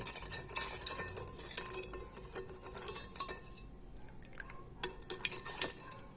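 A spoon stirs sugar into sushi rice vinegar in a pot, giving quick clinks and scrapes in irregular bursts, close and fairly soft, with a brief quieter pause midway.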